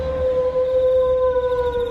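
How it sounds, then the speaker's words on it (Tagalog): A dog gives one sustained, eerie howl, loud and steady in pitch, drawn out alone without any talking. "Matapos marinig ang nakakatakot na alulong ng aso"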